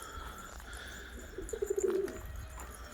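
Pigeons coo in a short, low, pulsing burst midway through, faint against steady outdoor ambience with no talking.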